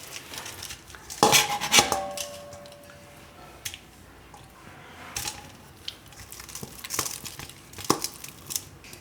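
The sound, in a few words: mixing peeled sweet potato in a bowl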